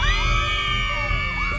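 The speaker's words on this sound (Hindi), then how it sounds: "तीनों चीख पड़ी।" Three girls in a horror story scream together in a lift as something rolls inside, a loud, sustained chorus of high shrieks with wavering pitch lasting well over a second, cut off abruptly at the end.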